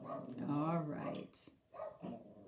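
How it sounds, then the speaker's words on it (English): A dog barks and whimpers indoors, with yelping, whiny barks coming in short bursts mixed with a person talking nearby. "I know, Boogie's barking"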